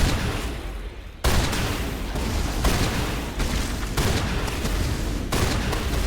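Sustained video-game gunfire in Mass Effect, a dense continuous barrage with sharp bursts and shifts throughout, loud and close with no talk.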